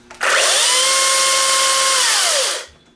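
A Makita XCU04PT1 36V brushless cordless chainsaw starts up and runs with a loud, steady motor whine for about two seconds, then winds down and stops.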